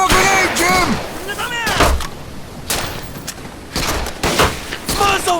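Bursts of WWII-era gunfire in the shooter Medal of Honor: Pacific Assault crack and boom in irregular clusters, loud and close, mixed with shouted voices and battle chatter.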